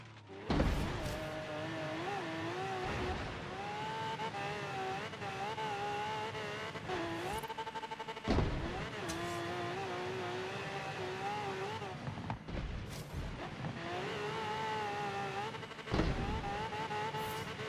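A race car in Forza Horizon 3 screams through the gears during a championship race, its engine note rising and dropping sharply with repeated shifts, loud and continuous, with faint tyre noise.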